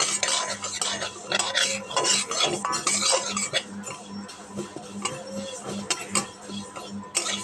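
Moong dal being stirred in a pot: a dense, continuous scraping and clinking of a metal spoon against the pot over a low simmering sizzle, close by, with faint background noise and no clear voices.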